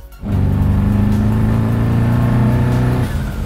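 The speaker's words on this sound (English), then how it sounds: "to put a V8 in an E30 and then to put 2 turbos on it" A twin-turbo V8 in an 800 hp BMW E30 bursts into a loud, sustained rev, holding a deep steady roar for about three seconds before easing off, with no voices.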